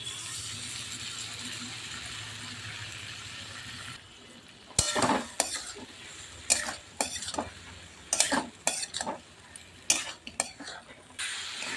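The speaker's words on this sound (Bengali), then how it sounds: "মশলাটা ভালো করে কষে নিয়েছি" Spices with tomato, cumin powder and mustard paste sautéed for a Bengali fish curry with potato and lentil dumplings: a soft sizzle fades, then a spoon scrapes and clinks against the pan in a run of sharp, irregular strokes.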